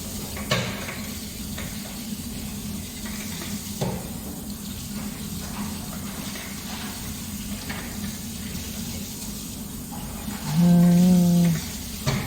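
A food mixture is stirred in a pan with a steady scraping and soft sizzling texture throughout, with a few sharper scrapes. A short tonal beep sounds near the end, with no talking.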